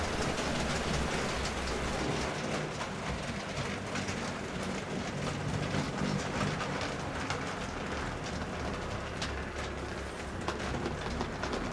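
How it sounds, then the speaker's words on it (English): A K-class mogul steam locomotive runs in with a train from Victoria, giving a steady, dense rumble of rolling wheels and rail noise with faint bird calls over it and no voices. "A K-class mogul runs in with a train from Victoria."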